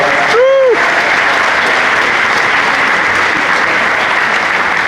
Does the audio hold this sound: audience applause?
yes